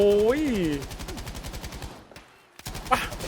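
Rapid gunfire bursts from a Battlefield V firefight, loud and rhythmic, with a tonal whooshing effect at first, a brief quiet gap, then more shots near the end.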